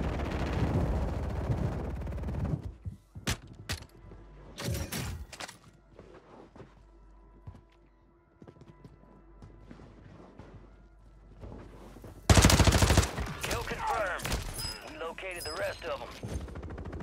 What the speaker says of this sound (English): I think there's people shooting on roof right now.